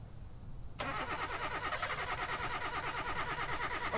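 A car engine in a video game cranks and catches abruptly after a quiet moment, then settles into a steady, loud, close idle rumble.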